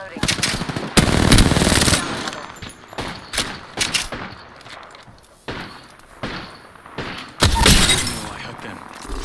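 Bursts of rapid assault rifle fire in the battle royale game Apex Legends, loud and close, with long automatic volleys, sharp single cracks and shattering impacts, while players talk over the shooting.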